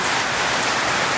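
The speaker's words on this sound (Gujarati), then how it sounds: "ખતરનાક ગાઈસ વરસાદ ચાલુ થઈ ગયો છે." Heavy monsoon rain pours down at a home, making a dense, unbroken hiss of drops drumming on surfaces. The sound is loud and steady, with no other sounds heard.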